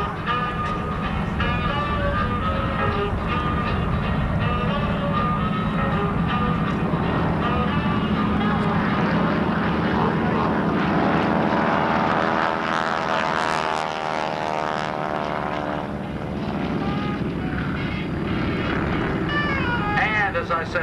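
Stunt airplane performing climbing turns at the 1994 Midland, Texas Confederate Air Force air show, a steady propeller drone that swells and shifts in pitch as it passes, heard continuously beneath a loud announcer over the PA.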